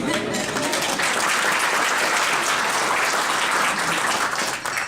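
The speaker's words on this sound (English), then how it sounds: "So she deserves a round of applause." Sustained, loud audience applause at an economic outlook event, many hands clapping steadily throughout with no break.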